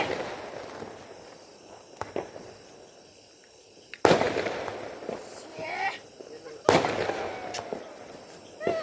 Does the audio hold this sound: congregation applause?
no